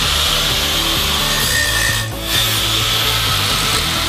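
Continuous loud grinding on a welded Harley motorcycle frame neck, a harsh steady abrasive roar with a machine drone underneath and a short dip near the middle.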